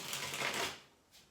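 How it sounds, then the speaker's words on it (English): A brisk riffle of cards being shuffled, close and crisp, fading off and followed by a brief softer rustle. "but I'm shuffling the second deck here."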